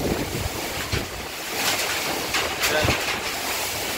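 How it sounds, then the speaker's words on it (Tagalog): Strong typhoon wind roars and gusts with rain during a storm in Daet, buffeting the microphone in loud continuous surges with brief sharper bursts. "Grabe, lumakas po ng lumakas talaga yung ano, hangin. May kasama pang ulan."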